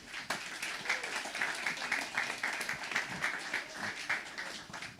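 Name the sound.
audience applause for Rob Hopkins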